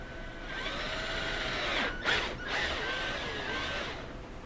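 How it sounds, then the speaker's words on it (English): Power drill boring a 5/16 hole in a motorcycle fork guard, a steady high whine lasting several seconds with a brief dip midway, close and alone without speech. "So I'm going to go ahead and just drill the 5/16 hole."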